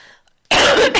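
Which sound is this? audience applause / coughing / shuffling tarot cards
coughing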